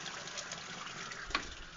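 Reverse-osmosis water being poured into an aquarium, a soft continuous splash and trickle of filling liquid with a brief louder gush near the end, heard close up with no talking.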